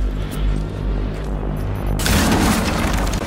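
A C4 charge detonates in Rainbow Six Siege, a loud close boom that swells into a sustained roar of blast and debris lasting over a second.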